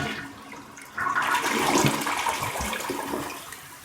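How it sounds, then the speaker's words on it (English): A newly installed Phillips toilet flushes: a loud, close rush of water surges in after a second and keeps gushing and swirling steadily to the end, with no talking. "Okay, we're going to go ahead and flush it."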